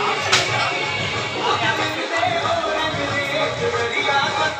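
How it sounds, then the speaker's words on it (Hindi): A large crowd fills a Durga Puja fair during Dussehra with a dense, steady wash of outdoor chatter and bustle, and voices mingle throughout at moderate loudness. "यहाँ पे देखिए बहुत ज़्यादा भीड़ है"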